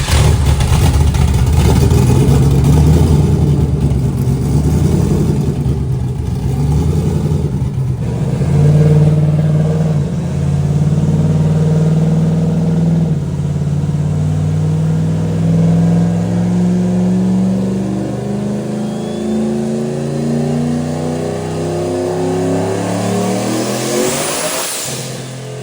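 McFlurry, a turbocharged car strapped on a dyno with a 5-inch downpipe and carbon fiber turbo inlet, revs loudly and close, its engine note climbing steadily through a long pull before dropping off sharply at the end.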